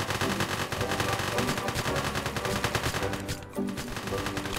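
Rapid automatic gunfire rattles nearly without a break in a one-armed robber video game, loud and close, with a short lull before the shooting resumes.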